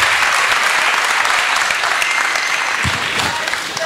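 A crowd applauds Maurizio Sarri at an evening event in Dimaro, a loud, dense, sustained burst of clapping that carries on with little letup and tapers slightly at the end.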